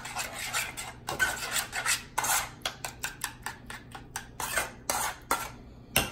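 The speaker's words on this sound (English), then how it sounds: "I'm using a regular spoon to try to smooth it out." A regular metal spoon scrapes against a bowl while smoothing lobster stuffing, making a quick series of rasping strokes in an uneven rhythm. The scraping is close and fairly quiet, and no one speaks.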